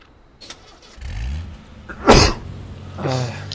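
A single sneeze-like burst from a player during a gaming session, preceded by a short vocal sound and followed by a brief voiced noise, fairly close and clear.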